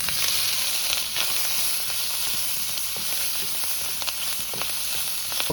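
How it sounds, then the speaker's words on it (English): Dominican sausage sizzles loudly in hot oil in a pan, a steady close crackle with occasional sharper pops and stirring scrapes. "now I'm going to add my Dominican sausage because I want this to crisp up"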